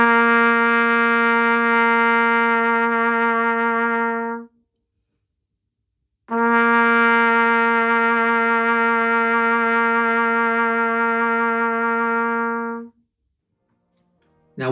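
A brass band instrument plays a low C, held twice as long steady notes of about four and six seconds with a pause between, loud, close and clear.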